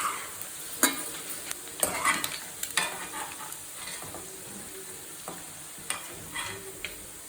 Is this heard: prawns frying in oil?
yes